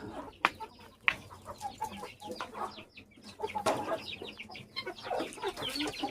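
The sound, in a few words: chickens clucking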